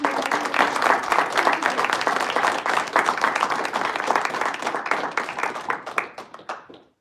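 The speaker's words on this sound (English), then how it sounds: "Let's give a huge round of applause for our" An audience at a Toastmasters club meeting in Dubai gives dense, close applause, many hands clapping steadily for about seven seconds before thinning to a few last claps.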